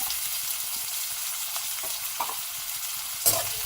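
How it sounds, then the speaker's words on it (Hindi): Chopped onions frying on a low flame in a pan for Sindhi masala bitter gourd, making a soft continuous sizzle broken by occasional light scrapes of a spoon and one sharper clink near the end. "अब मैंने प्याज को स्लो फ्लेम कर दिया है, तो हम स्लो स्लो फ्लेम पे इसको पकाएंगे"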